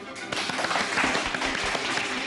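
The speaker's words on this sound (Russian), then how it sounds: "Аплодируйте!" Studio audience applauding on a cooking show, a short burst of dense clapping that swells quickly and holds steady for a couple of seconds.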